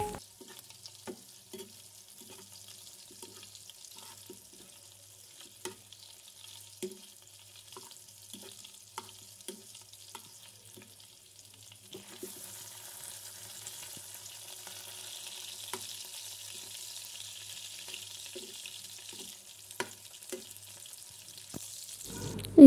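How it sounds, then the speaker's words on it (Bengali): Fish frying with green chillies and coriander leaves in a pan: faint scattered stirring clicks at first, then a steady soft sizzling hiss through the second half, with no talk. "আজকে শুধু মাছ আর কাঁচামরিচ দিয়ে আর ধনিয়া পাতা দিয়ে ভাজব"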